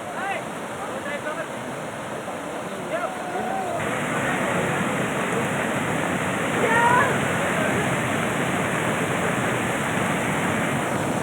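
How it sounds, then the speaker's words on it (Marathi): Floodwater rushes through overflowing rivers and streams after heavy monsoon rain in Marathwada, a steady, loud, broadband roar of churning water with no break, swelling slightly midway. "नदी नाले दुथडी भरून वाहू लागलेत"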